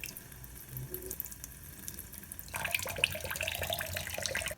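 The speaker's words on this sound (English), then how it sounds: "And then 2 spoons full of water." Water spooned into a plaster mix for casting an action figure head, a soft trickle and splash that starts partway through and continues with small drips and clinks, fairly quiet and close.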